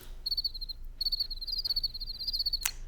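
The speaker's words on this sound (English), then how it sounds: "crickets." Crickets chirping in rapid pulsed trills, fairly close and clear, with a short pause and a brief sharp click near the end.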